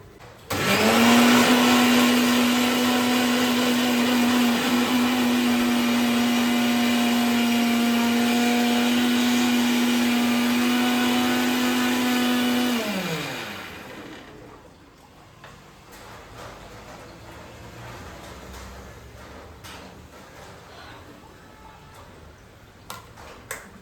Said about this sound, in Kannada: ಅಷ್ಟರಲ್ಲಿ ಪಾಲಕ್ನ ನಾವು ಗ್ರೈಂಡ್ ಮಾಡ್ಕೊಂಡ್ಬಿಡೋಣ.